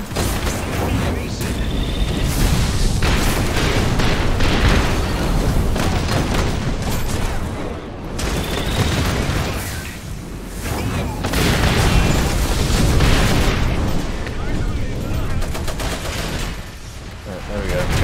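Mech gunfire and explosions in the video game Iron Harvest form a dense, unbroken roar of shooting and booming blasts, loud throughout, with a voice talking over the battle.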